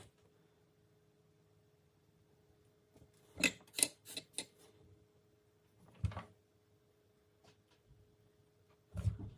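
Scissors trim wire while a Terraphone intercom is wired to a helmet headset: a quick cluster of four crisp snips, then two more isolated cuts later, close and sharp in a quiet room.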